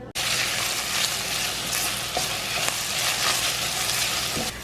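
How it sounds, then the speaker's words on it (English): Onions and garlic sauté in hot oil in a Dutch oven, giving a steady, loud, close sizzle with faint crackles and occasional stirring scrapes throughout. "I'm heating up my Dutch oven. I have some oil in there. I'm going to start with the onions and the garlic."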